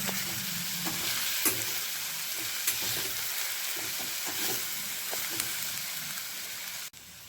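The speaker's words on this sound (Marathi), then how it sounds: "सर्व मसाले मी व्यवस्थित हलवून एकजीव करून घेते" Cluster beans (gavar) being stirred with chilli powder and garam masala in hot oil for a village-style curry, a dense close sizzle broken by frequent spatula scrapes and clicks, cutting off abruptly at the end.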